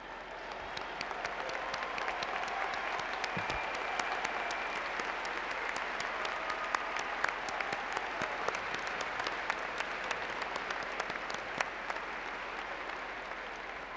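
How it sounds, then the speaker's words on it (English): Alumni in a commencement audience at the University of Northern Iowa stand and applaud new graduates: steady, dense applause from a large crowd filling the hall at an even level throughout, with scattered sharper claps standing out. "I invite all UNI alumni in the audience to please stand and applaud the newest members of our UNI alumni family."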